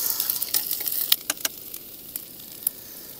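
Onions frying on a small gas camping stove outdoors: a soft, steady sizzle with a few sharp clicks and taps from stirring, louder at first and then settling quieter.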